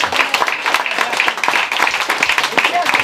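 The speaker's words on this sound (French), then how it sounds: "je vais demander, s'il vous plaît, jouer les jeux, de vous applaudir très très fort" A crowd at a live evening event applauds: dense, continuous clapping that fills the whole moment, fairly loud and even, with a voice heard over it.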